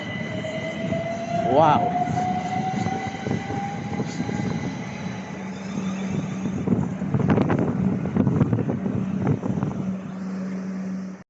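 Class 455 electric trains at Clapham Junction station, a loud rumble of units moving through with a rising whine, wheel squeal and clattering over points, and a voice briefly exclaims.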